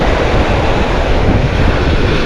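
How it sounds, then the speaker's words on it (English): Ocean waves washing onto a sunny Gulf beach in Sarasota County, Florida, a loud, steady broadband roar of surf close by, with wind buffeting the microphone throughout. "And the waves are just pushing them in."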